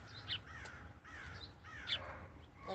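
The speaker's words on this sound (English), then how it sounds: "There's the crow. Did y'all hear it?" A crow caws twice, spaced about one and a half seconds apart, moderately near over faint background hiss.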